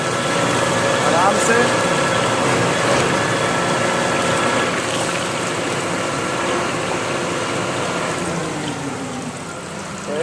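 A borewell drilling machine runs nearby with a steady, loud mechanical drone that fills the whole clip beneath someone speaking while cooking indoors.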